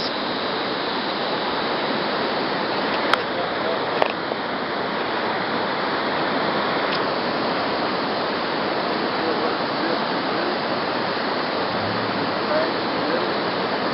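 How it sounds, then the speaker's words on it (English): Broad, steady roar of floodwater rushing along the San Gabriel River as it spills over its banks, a continuous close wash of noise with a couple of faint knocks and no talk. "Here we are down at the San Gabriel River,"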